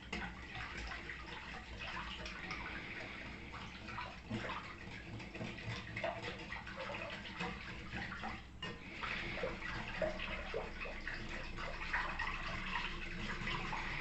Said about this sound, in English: And I just whisk until there's no more evidence of any yeast cake.